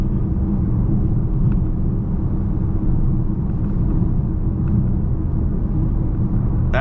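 Steady low road and tire roar inside a Dodge Charger SXT riding on 22-inch rims at highway speed, a constant cabin rumble with faint small ticks and no talking.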